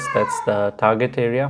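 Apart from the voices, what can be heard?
cat meowing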